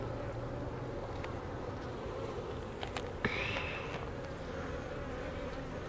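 Honey bees hum in a low, steady drone around an open queenless hive, faint and distant, with a few light knocks and scrapes from handling the frames and no speech.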